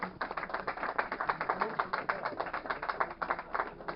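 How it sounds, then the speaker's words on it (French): A small outdoor group at a street fishing competition prize-giving claps in a fairly even rhythm, individual hand claps distinct and moderately quiet, continuing steadily. "je pense qu'on peut l'applaudir"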